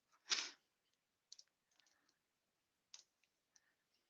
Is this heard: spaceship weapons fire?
no